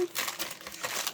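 Plastic bags holding runners for a High Grade 1/144 Gundam TR-6 Woundwort model kit crinkle and rustle close up, a brief continuous crumpling with no talking.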